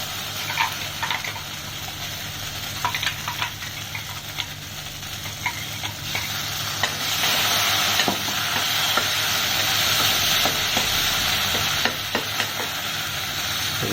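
Ground spice paste frying in hot coconut oil for an ash gourd curry, a steady sizzle with spoon scrapes and stirring clatter; the frying grows louder midway and continues without talk.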